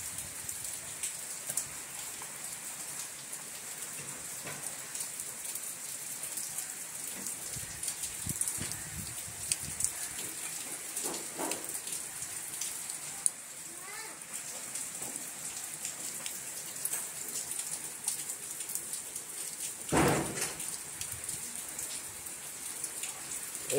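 Steady rain falling since morning in a rural Bengali village, a continuous hiss of drops on surfaces with scattered louder splashes and a brief heavier gust near the end, no talking.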